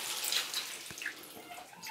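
A hand shower runs in a hotel bathroom at Le Meridien Taipei, giving a close, steady hiss of spraying water with a few faint splashes and drips. Nobody speaks.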